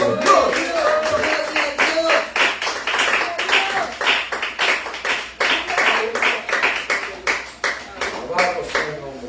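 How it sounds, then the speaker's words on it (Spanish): A congregation at a Venezuelan church clapping in praise, rhythmic hand claps in a steady beat that carry on throughout, with voices calling out over them. "Dele palmas a Cristo."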